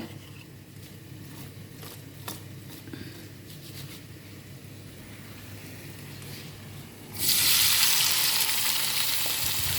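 Fish masala mixture for tuna biryani hits hot oil, a steady close sizzle of frying that jumps sharply louder partway through and holds as a dense, bright crackle.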